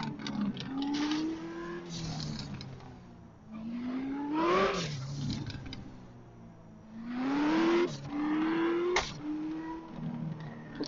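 Car engine in the video game Car Parking revving and accelerating through several rising pitch sweeps, with gear changes breaking each climb, loud and close throughout, no talking.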